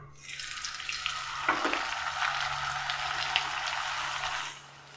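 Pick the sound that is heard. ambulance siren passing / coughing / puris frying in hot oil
puris frying in hot oil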